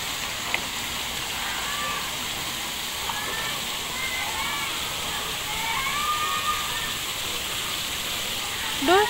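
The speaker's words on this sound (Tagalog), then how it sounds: "Doon sa falls." A waterfall at a beach hotel resort pours as a constant, moderately distant hiss of rushing water, with faint chirps and a brief knock near the end.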